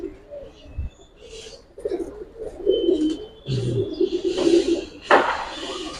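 Giribaz pigeons coo in low, throaty bursts, repeated on and off at close range, with a few sharper chirps and a brief knock mixed in.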